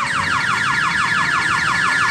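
Railway level-crossing alarm ringing near a sugar-cane lorry line at a factory, a loud electronic tone that repeats quickly and steadily with a falling sweep on each ring. It continues for the whole stretch with no talk.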